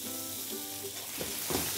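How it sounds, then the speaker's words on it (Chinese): Pork spare ribs pan-frying in their own rendered fat give a steady, close sizzle, with a few louder spits and crackles near the end and no talking. "你見到咧煎一陣間之後咧，開始咧有啲油開始飆出嚟噶啦，佢自身嗰啲油嚟噶。"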